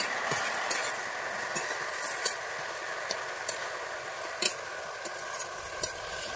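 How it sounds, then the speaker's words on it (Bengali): Thankuni leaf chorchori with salt being stirred in a pan, a steady low sizzle with a series of light, irregular spatula taps and scrapes, close and fairly quiet, no voices. "লবণ দিয়ে আমি ভালোভাবে নেড়ে নিচ্ছি"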